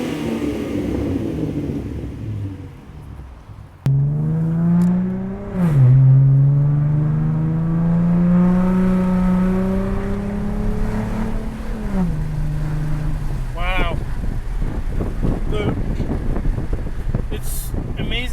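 A 2012 Mustang V6 fitted with a MagnaFlow Race Series axleback exhaust revs loudly after a brief pause, a deep throaty note sweeping up and settling into a steady drone, with wind noise and excited talk around it.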